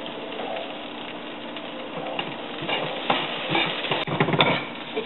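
Jasmine rice frying in a pan, a soft steady sizzle that swells toward the end with scraping and stirring strokes and a clink of utensil on metal.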